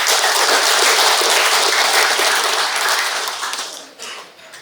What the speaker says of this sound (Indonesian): Kita beri tepuk tangan meriah untuk mereka